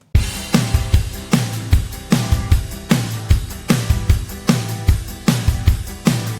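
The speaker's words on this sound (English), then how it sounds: "So together, the acoustic guitar and the drums sound like this." Strummed acoustic guitar and a pop country drum kit play together in a steady, loud groove, with kick and snare hits evenly spaced under the guitar chords and no voices.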